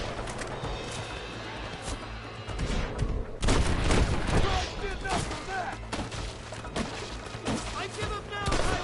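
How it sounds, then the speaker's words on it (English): Gunfire raining down from a clifftop in the Red Dead Redemption video game, dense bursts of shots and booming impacts, loud and continuous with rapid volleys, mixed with shouted voices and game sounds. "They're shooting down on us!"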